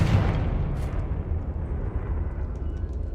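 Confringo blasting curse exploding in Hogwarts Legacy: a loud, close burst that decays into a long rumbling, crackling tail of low debris noise, with no talking.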